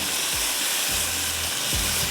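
Food for a beef pulao fries in a hot pan with a dense, steady sizzle, and a few soft low thumps from stirring break in at intervals.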